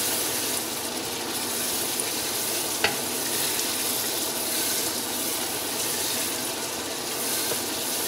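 Onion masala for chicken pulao sizzling and frying in a pan, a steady close crackle with an occasional soft stir or clink, no voices.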